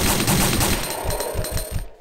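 Rapid automatic gunfire from Resident Evil 2 rattles off in a loud, continuous burst of closely spaced shots, then cuts out abruptly at the end.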